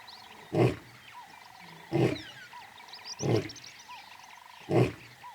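A male lion's bellowing roar, four deep, evenly spaced bursts roughly 1.3 seconds apart, moderately loud over a background of chirping birds and a steady insect-like drone.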